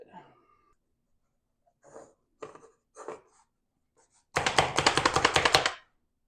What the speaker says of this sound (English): I'm actually contemplating chopping these up instead.